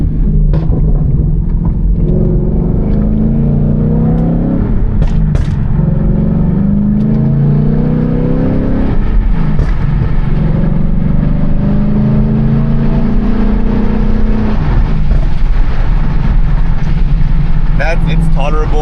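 A Ford S650 Mustang GT with a ghost cam and burble tune idles and revs nearby, its lumpy low rumble rising and falling under someone talking and some wind noise.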